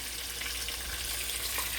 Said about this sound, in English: So make sure you're always hearing that sizzle.